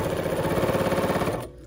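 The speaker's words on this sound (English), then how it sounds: "But now I'm going to lower my presser foot and start stitching again." A BERNINA sewing machine stitches binding in a rapid, even mechanical rattle close by, then stops abruptly near the end.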